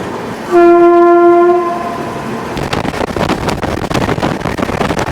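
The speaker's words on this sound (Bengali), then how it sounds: "একদম রাইট টাইমে আমাদের ট্রেন ছেড়ে দিল।" A train horn blasts loudly for about a second, then the rhythmic rumble and clatter of a train pulling away from Santragachi station builds up close by.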